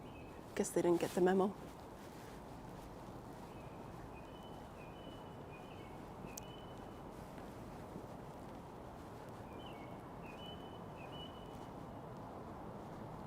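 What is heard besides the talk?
birds chirping on a quiet street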